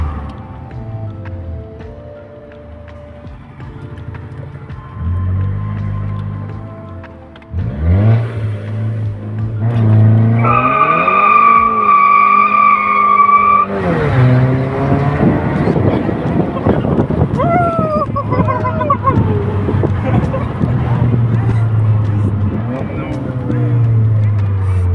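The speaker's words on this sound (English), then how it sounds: "do you think you could do a launch for us by the robot? I'm in love with the turbo sound." A VW Scirocco R does a launch start, its turbocharged engine rising from a low idle into a loud, sustained rev with wind buffeting, then dropping back to a steady drone while people talk over it.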